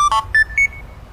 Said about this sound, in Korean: 뭐야, 문자 왔네?